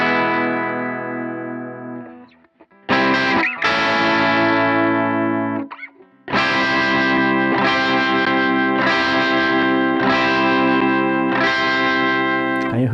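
Stratocaster electric guitar played clean through a pickup combination, sustained chords ringing then restrummed in a steady repeating pattern, close and fairly loud with no voices.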